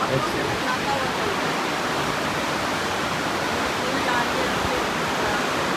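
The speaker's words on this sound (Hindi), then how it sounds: "तो बस ये पानी बड़ा साफ है, बहुत साफ है, ग्रीन कलर है इसका। और ये पता नहीं कहाँ से चला हुआ है, और जोरों शोर से चला है।" Clear green water rushes loudly in a steady, close roar of broadband noise that never lets up, with no distinct breaks or other sounds standing out.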